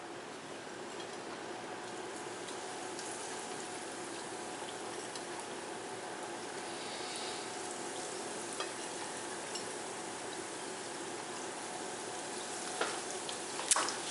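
Battered fish frying in very hot oil gives a steady, even crackling sizzle that runs without pause, fairly soft and close, with a couple of small clicks near the end and no talking.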